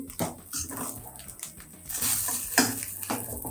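Paneer being stirred in a pan, with a dense scraping and sizzling texture, a few sharper utensil knocks against the metal, fairly close and steady over a few seconds.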